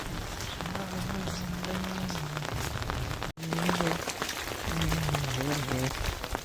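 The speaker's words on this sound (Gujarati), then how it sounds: "અત્યારે વરસાદ ચાલુ છે." Heavy rain falls in a village with a dense, continuous hiss of drops hitting surfaces. A low droning tone runs underneath, and the sound cuts out briefly midway before resuming.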